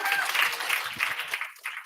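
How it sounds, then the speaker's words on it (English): A crowd at a November Python Christmas meetup applauds a speaker with a dense, fairly close wash of clapping that fades toward the end, while a voice speaks briefly over it. "Applause for Yulia, please."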